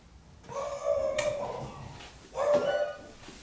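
A dog greets people arriving home, giving two bursts of whining, yelping barks with a howl-like tone, close by and fairly loud, with quiet gaps between.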